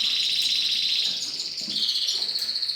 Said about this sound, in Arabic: لاحظين هاي الأنواع الطيور الحلوة